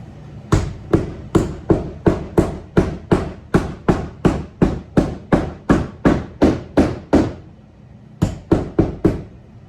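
A steady series of sharp, ringing hammer blows on a food trailer roof, about two per second, close by, with a brief pause before a final few strikes.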